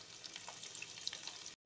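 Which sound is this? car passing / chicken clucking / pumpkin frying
pumpkin frying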